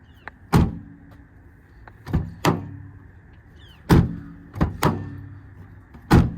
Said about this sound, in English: you can hear the echo of all the sheet metal